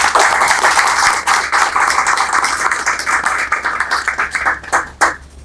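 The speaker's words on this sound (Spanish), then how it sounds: "Un fuerte el aplauso." Strong round of applause at a philosophy school banquet, dense loud clapping from an audience that stays steady for several seconds, then thins into a few scattered claps near the end.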